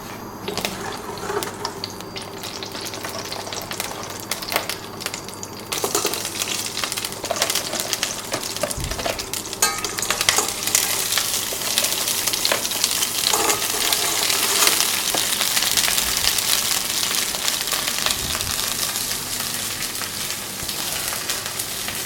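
Langoustine heads and leek tops frying in hot oil for a potato soup, with a steady, fairly loud sizzle and crackle that builds and holds throughout, broken by a few clinks and stirring sounds.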